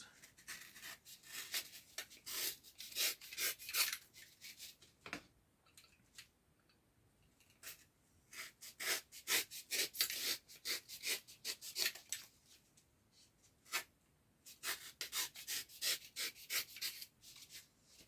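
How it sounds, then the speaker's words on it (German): Dried workpiece being sanded and trimmed by hand, producing bursts of short scratchy rubbing strokes in quick rhythm, with pauses between passes, close and fairly quiet. "Und dann werden wir noch ein bisschen schleifen, damit das nachher hier reinpasst."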